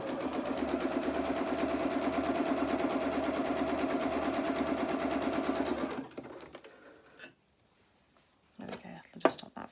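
A sewing machine stitches fabric for a pair of Luna Lapin doll's jeans, a steady fast mechanical whir running for about six seconds before stopping, followed by quiet handling and a few soft clicks.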